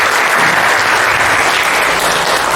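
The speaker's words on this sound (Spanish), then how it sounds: "Un fuerte aplauso para todos ellos" A steady, fairly loud burst of audience clapping fills a few seconds at an afternoon gathering for environmental monitoring students, dense and even, with no voices.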